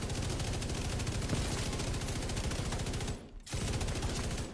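Sustained light machine gun fire in The Division 2, rapid evenly spaced shots forming a loud continuous rattle, broken by a short pause before the burst resumes.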